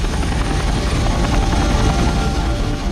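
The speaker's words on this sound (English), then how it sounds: "the helicopters flew more than 500 miles into Iran" Military helicopters on a long low-level flight from an aircraft carrier into Iran, a loud continuous rotor thump and engine roar filling the whole stretch without letup.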